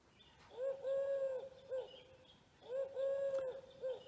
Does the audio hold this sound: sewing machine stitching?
no